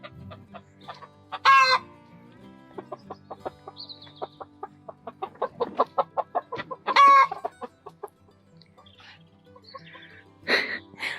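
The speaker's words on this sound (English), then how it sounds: "I think the brown hen's trying to be the boss." Light Sussex hens cluck in short repeated bursts close by, mixing in a couple of louder squawking calls and rising protest notes, with occasional quieter chatter from the flock in between.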